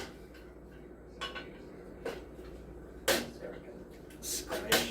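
Cooked apples mashed in a pot produce a few soft, spaced clanks and scrapes of a utensil against the pot, faint and close, with a person talking between them.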